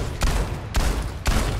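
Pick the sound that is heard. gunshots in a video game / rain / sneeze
gunshots in a video game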